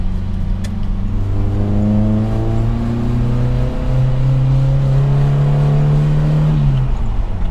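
Suzuki Jimny Katana fitted with large tyres accelerating through the mid-rev range, engine note climbing steadily with clear rising harmonics, loud and close, no talking.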